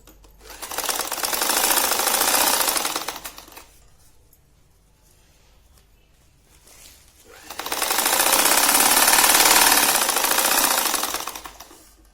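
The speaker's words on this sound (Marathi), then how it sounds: "तर इथे पण आपण तिघी बाजूनं दाब शिलाई घेऊन घेऊ." A sewing machine stitches a cloth cover for holy books in two long, loud bursts of rapid, steady mechanical rattling, separated by a quiet pause of a few seconds.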